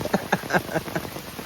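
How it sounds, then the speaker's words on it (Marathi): Heavy rain drums steadily on umbrellas sheltering a group beside an empty forest road on a crab-fishing trip, a dense close patter with soft uneven pulses through the short stretch. "जोरात पाऊस आला"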